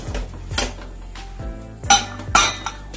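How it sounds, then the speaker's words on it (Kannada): The metal lid of a pressure cooker is fitted and shut over moong dal payasa. Five or six sharp, close clanks and clinks come at uneven intervals, with no voices. "ನೋಡಿ ಸ್ನೇಹಿತರೆ, ಈಗ ಲಿಡ್ ನ ಕ್ಲೋಸ್ ಮಾಡ್ತಾ ಇದ್ದೀನಿ"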